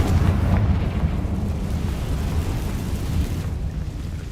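A Confringo explosive spell from the Hogwarts Legacy video game, a dense, loud rumbling blast that fills the clip and slowly tails off, with no talk.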